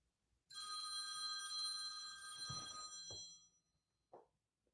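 A telephone rings with a bright, sustained electronic bell tone for about three seconds, then a short blip follows; the sound is fairly quiet, with no talking.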